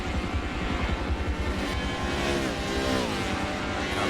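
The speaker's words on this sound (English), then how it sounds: "I love the sound of these cars." Formula Mazda open-wheel race car engines roar in the Forza racing game, a dense, loud, continuous buzzing drone with revs climbing and shifting as several cars run together.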